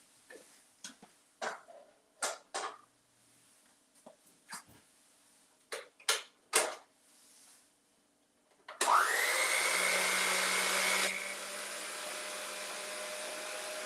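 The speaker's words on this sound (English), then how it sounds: "I'm gonna see if I can put it on the mixer and let it get started." An electric stand mixer starts up on banana bread batter with warm applesauce. A series of sharp clacks and knocks comes first, then the motor whirs up to a loud, steady drone that eases slightly lower after a few seconds.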